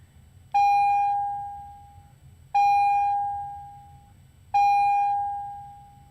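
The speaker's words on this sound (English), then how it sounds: "This beeping is freaking annoying." An electronic device beeps three times at an even interval of about two seconds, each tone a clear pitched chime that fades slowly, loud and close over a faint low hum.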